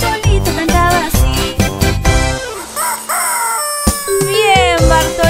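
A rooster crows a long cock-a-doodle-doo over a lively children's song, the crowing rising and falling before the music picks up again.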